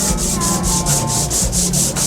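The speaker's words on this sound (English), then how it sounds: "And now we're sanding it back down again." Steady rhythmic sanding of painted wooden bathroom cabinets, a loud close scraping rub repeating in even strokes about four times per second, with no voices.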